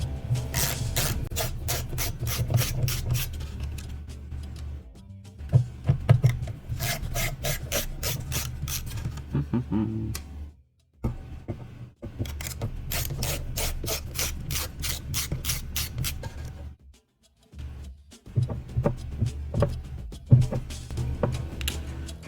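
Screws being turned out of a GTX 1070 Founders Edition graphics card with a screwdriver: rapid, steady rasping ratchet-like scraping in long runs, close and fairly loud, broken by short pauses.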